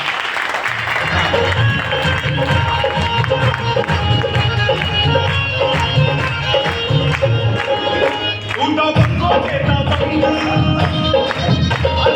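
Crowd at an achiever gathering in Siwan applauding a newly made Emerald achiever, a steady dense wash of clapping and cheering filling the whole stretch with a brief dip near the end.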